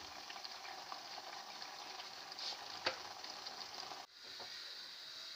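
Steady, close sizzling of spinach frying in hot oil, a continuous crackling hiss that dips briefly near the end before resuming.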